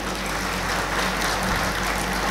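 Audience applause welcoming guests on stage at a yoga retreat inauguration session, a steady broadband wash of clapping held at even loudness throughout, without a clear break.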